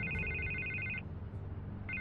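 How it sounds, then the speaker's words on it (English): A telephone rings in a Batman video game, an electronic trill lasting about a second, a short pause, then the next ring starting, over low background hum. "I can't get the phone to stop ringing."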